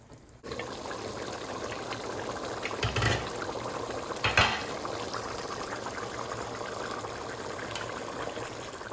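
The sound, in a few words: water simmering in a pot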